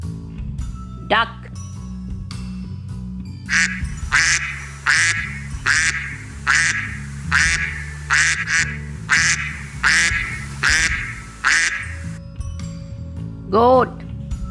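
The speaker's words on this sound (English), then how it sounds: "Duck." A duck quacks repeatedly in a steady rhythm, loud and close, about ten quacks in a row, with a higher call before and after.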